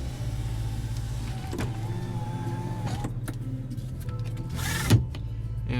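Sunroof motor running in a 2018 Chevrolet Traverse Premier, a close steady electric whine and hum inside the cabin, cutting off near the end with a brief thump.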